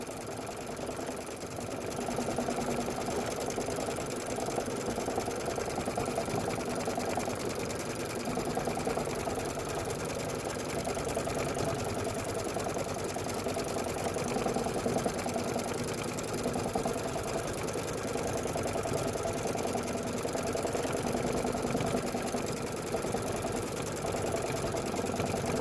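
A sewing machine quilting the sashing and border of a quilt, stitching through batting with a steady, fast mechanical hum and clatter that runs close and unbroken, with nobody speaking.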